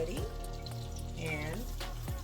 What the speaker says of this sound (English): The oil is cooking. The oil is bubbling.